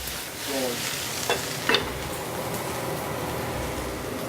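Potatoes and onions sizzle in a frying pan with a steady crackling hiss, close and even, with a brief stir or scrape partway through.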